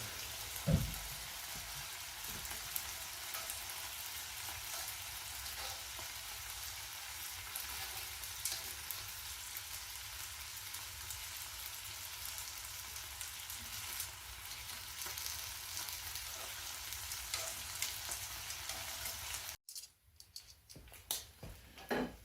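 Bacon sizzles loudly and evenly in a pan on a woodstove, a dense crackling hiss with scattered pops that runs steadily for a long stretch before cutting out near the end.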